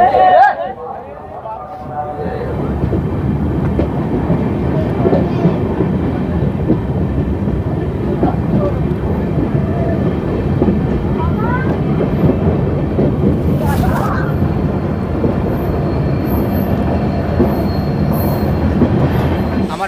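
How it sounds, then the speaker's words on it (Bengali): An Amrit Bharat Express train at Bolpur Shantiniketan railway station gives off a steady low rumble with brief metallic squeals, while a voice speaks nearby over the noise. "আমার পিছনে অমৃত ভারত এক্সপ্রেস দাঁড়িয়ে আছে"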